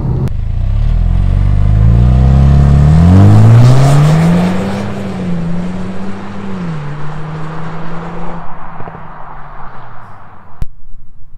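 A Jaguar P300 with a 2-litre four-cylinder turbo engine accelerating hard, its loud rising growl climbing through the gears with a shift, then easing off into a lower drone before cutting away.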